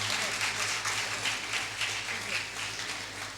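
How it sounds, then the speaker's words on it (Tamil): Audience at an anniversary celebration applauding a Bharatanatyam dancer, a fairly quiet, steady wash of clapping over a low hum, with some voices underneath. "நமது சார்பாக கரகோஷங்கள் மூலமாக அவங்களை கௌரவிப்போம்"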